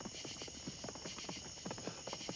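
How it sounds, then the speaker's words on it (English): Steady clip-clop of horse hooves at a walking pace, faint and somewhat distant, with a constant high hiss in the background. "I heard the sound of the fiery hooves again."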